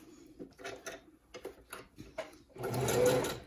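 A sewing machine stitches elastic onto a leotard in a widened basting stitch, running in short whirring bursts with pauses, then a longer steady run at the end.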